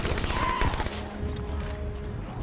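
Assault rifle fire in the Halo 5 video game: a dense burst of rapid shots in the first second, loud and close, then fading into lower game noise and hum.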